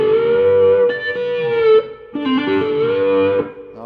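A B-bender guitar plays a short lick in octaves with its G lever held down. The clear, slightly driven notes bend and slide between pitches in two bursts, separated by a brief pause.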